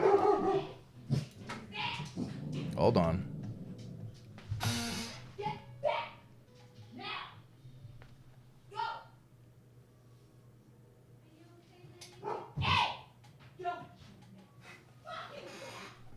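Dogs bark, yip and whimper in scattered bursts, some near and loud, others fainter, while a person talks briefly between them.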